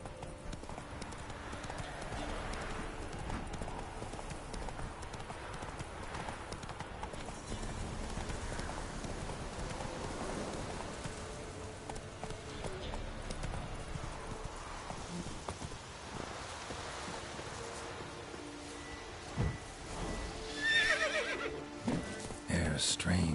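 Roach, Geralt's horse in The Witcher 3, gallops with a rapid, steady clip-clop of hooves over game ambience. Louder snorts and a whinny come near the end.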